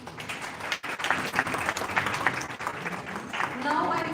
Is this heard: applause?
yes